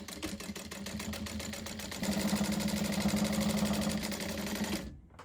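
A sewing machine stitching down a quilt seam on a big pocket quilt coat, rapid steady needle chatter that speeds up after a moment, then stops abruptly near the end.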